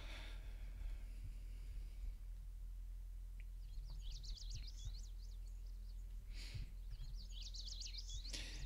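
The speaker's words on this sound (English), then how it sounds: "here we have some rare bird sounds" Chirping bird calls in short warbling phrases, faint and somewhat distant, coming in two bursts over a low steady hum.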